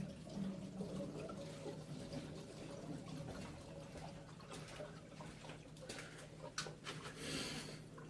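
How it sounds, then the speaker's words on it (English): Water running from a faucet in another room while a water heater system is purged of air during a Heatworks Model 3 installation, a faint, steady distant gush with occasional sputters. "Hear the water coming out of the faucet in the other room."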